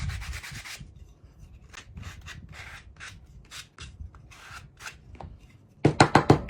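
Edges of a small wooden mini cutting board being roughed up with sandpaper, a series of close, rasping strokes in an uneven rhythm, with a quick run of sharper scrapes at the end.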